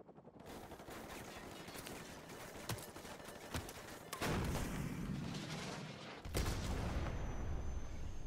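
Stinger missile launches amid gunfire in a Call of Duty campaign battle: a dense, steady clatter of gunfire with sharp cracks, broken by two heavy booming launches that swell the din.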